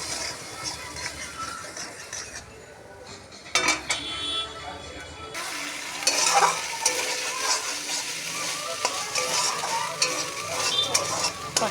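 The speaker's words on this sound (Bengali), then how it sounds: "বাদাম আর জিরে বাটা। ভালো করে কষে নেব।" Peanut and cumin paste fries in a pan for a Bengali potato fish curry. It sizzles steadily while a spatula stirs and scrapes against the metal with clinks, and a voice speaks over it.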